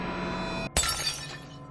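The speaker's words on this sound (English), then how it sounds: "a glass on top of the table shattered." A single sharp glass shatter used as a horror sound effect, a sudden loud crash after a brief hush, followed by scattering tinkles that fade within a second.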